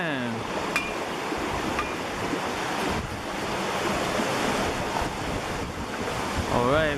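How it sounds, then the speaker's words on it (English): Waterfall at Switzer Falls, set among boulders, gives a steady, broad roaring rush of falling water from start to finish, close and fairly loud, with wind buffeting the microphone. "we made it to Switzer Falls"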